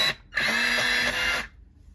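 A coloured pencil in Caput mortuum violet is ground in a sharpener, giving one steady, close mechanical whir that lasts about a second before cutting off.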